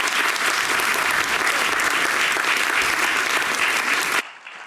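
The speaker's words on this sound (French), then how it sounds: "On l'applaudit très fort." A large audience at an eloquence contest final in Paris breaks into loud, dense applause that holds steady for about four seconds, then cuts off abruptly, leaving faint room noise.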